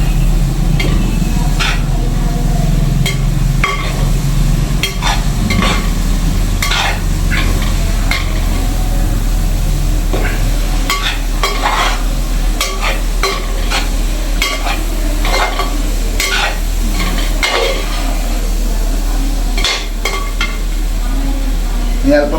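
Ivy gourd pickle being stirred as it fries in a pan, a continuous sizzle with scraping, clacking spoon strokes that come in irregular bursts, close and loud, with a low steady hum underneath.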